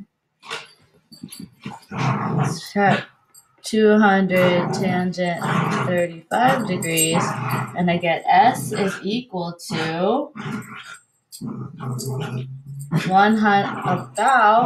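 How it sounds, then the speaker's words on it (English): A dog growling and grumbling while playing with another dog, low rumbles under and between steady speech by a man working through a math problem. "That's my dog playing with his best friend."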